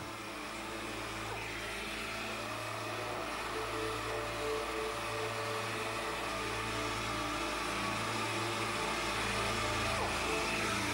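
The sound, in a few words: orbital sander chamfering plastic around a crack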